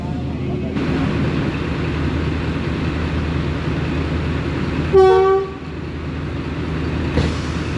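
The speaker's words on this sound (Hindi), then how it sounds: "फाइनल डिपार्चर विसल हो गया है लाला मसा जंक्शन से 48 डाउन रहमान बाबा एक्सप्रेस का" Rehman Baba Express departing Lalamusa Junction: a steady rumble of the train, then one loud horn blast midway, followed by a brief second toot near the end.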